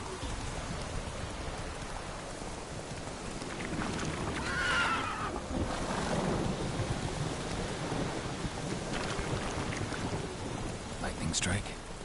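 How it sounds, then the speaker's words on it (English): Thunder rumbling after a lightning strike during rain in The Witcher 3, a low rolling crash that swells midway over a steady hiss of rainfall, with a horse nearby. "Lightning strike."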